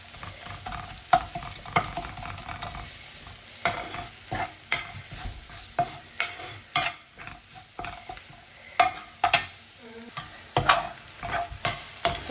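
Masala for an egg ulli karam frying in a pan, crackling sizzle under a rapid run of spoon scrapes and clacks against the metal, close and fairly loud.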